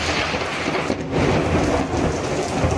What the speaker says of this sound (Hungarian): És a villámlás, ami egy másodpercre áramszünetet okozott a városban.